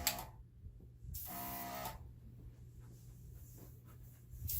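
Airbrush blowing paint across a Dutch pour fluid art painting, heard as short bursts of hissing air: a steady spray near the start, a louder burst around the middle, then quieter intermittent puffs and a final burst at the end.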